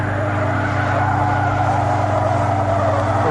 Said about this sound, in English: you can hear the tires squealing